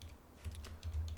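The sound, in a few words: typing a command on a computer keyboard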